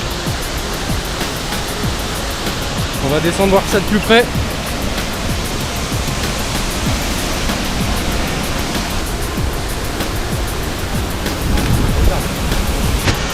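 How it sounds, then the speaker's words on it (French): Cascade de la Fraîche, a mountain waterfall in the Vanoise, roars as a steady broadband rush throughout, with a person speaking briefly over it. "on est à la cascade de la Fraîche"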